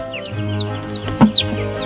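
Chickens on a Delaware poultry farm raising chicks for Allen Harim give repeated close clucks and short rising calls, with one louder squawk near the middle.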